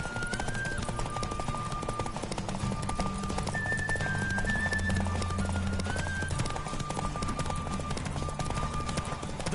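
A horse gallops in The Witcher 3 video game with a steady, continuous clip-clop of hooves at a fast pace, close and prominent over a soft musical background.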